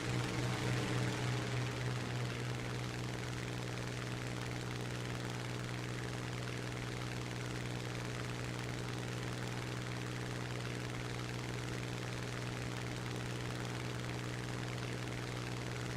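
Fighter plane engines drone in a simulator battle video game, a constant propeller roar with a steady low hum that holds loud and unbroken for the whole stretch.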